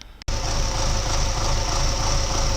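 An MTZ-82.1 tractor engine in minus 15 cold, with thick oil, cranks loudly after a brief quiet start, a close, steady, low rhythmic chugging that continues unbroken.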